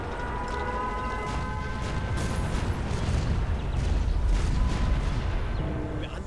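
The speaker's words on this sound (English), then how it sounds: "So now I get to show off these rockets." Rockets launching in the Empires: Dawn of the Modern World strategy game, a continuous rumbling barrage of booms and whooshes swelling toward the middle, with faint musical tones beneath.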